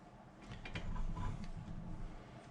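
A Jaguar MKII wheel hub spinning on axle stands gives a steady low mechanical whir with faint ratcheting clicks and light rattles, moderately close and continuous.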